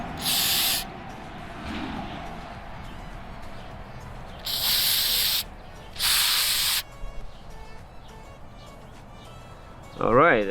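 Several loud hissing bursts of an aerosol cleaner spray can on a Nissan Xterra or Frontier mass air flow sensor, short and longer sprays separated by pauses, with a faint quieter background between them.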